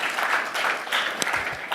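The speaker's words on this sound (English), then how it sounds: "not sure why you're applauding that" Scattered audience applause at an administrative panel talk, a short burst of steady clapping from a room of listeners, moderately loud with no voices over it.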